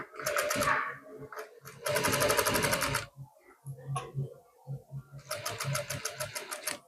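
Electric sewing machine stitching a blouse seam, running in loud rapid bursts that start and stop several times, with quieter handling and fabric shuffling between runs.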